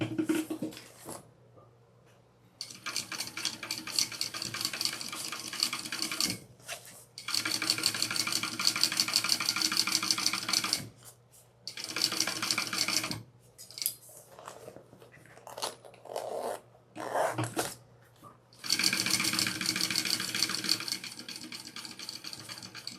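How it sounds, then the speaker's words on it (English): A sewing machine basting handbag lining runs in close bursts of rapid stitching, a few seconds each, with short silent pauses between the runs and no talking. "And I want to baste that on."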